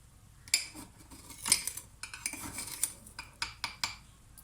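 Flour, egg and milk being mixed in a bowl, with repeated clinks and scrapes of a utensil against the bowl in a quiet, irregular rhythm.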